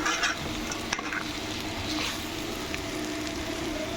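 Ivy gourd pieces fry in hot oil with a constant close sizzle, broken now and then by the scrape and clink of stirring, with no one speaking.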